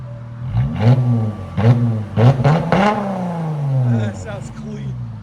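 A car fitted with an aftermarket muffler revs in several sharp, loud bursts that rise and fall, with a longer held rev near the end and people talking over it.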